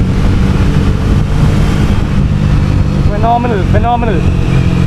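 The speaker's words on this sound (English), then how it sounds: "right now I'm doing 20 in the fourth gear and the bike will just pull" A Triumph Speed T4 motorcycle engine pulls at low speed in fourth gear with a loud, steady rumble, heavy wind buffeting over it, and a rider's voice briefly heard beneath the noise.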